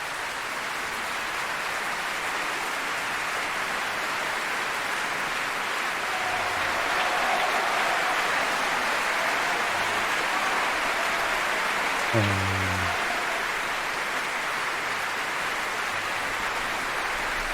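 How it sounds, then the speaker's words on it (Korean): A concert audience breaks into sustained applause after a requiem conducted by Abbado, a dense, even wash of clapping that continues steadily throughout, with a brief low voice or cough partway through. "이제 박수 나옵니다."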